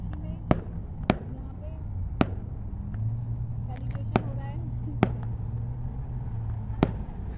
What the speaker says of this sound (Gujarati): ફટાકડા પણ ફૂટે છો